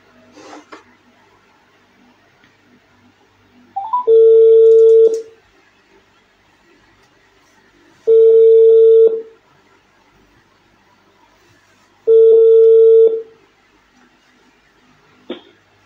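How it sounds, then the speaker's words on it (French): A WhatsApp call ringing: three identical steady tones, each about a second long, repeating at regular four-second intervals, loud and clear with no talk over them. "je t'appelle sur WhatsApp, tu décroches pas"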